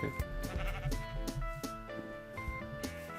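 A sheep bleats repeatedly in the Minecraft video game, its bleats rising in several tonal bursts over a steady layer of game music, fairly close and loud.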